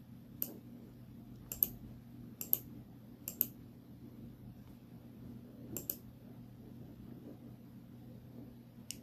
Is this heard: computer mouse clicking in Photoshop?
yes